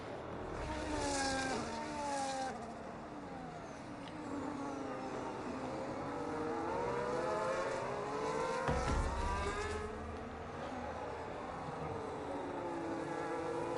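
Race cars in a racing video game set in Mexico pass on track, engines whining and shifting pitch as they sweep by at moderate distance, continuous and steady.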